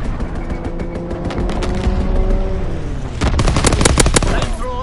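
Rapid strafing gunfire from an enemy aircraft in a WW2 video game, loud bursts of automatic fire rattling across a busy battle soundscape, with a heavier, denser volley near the end.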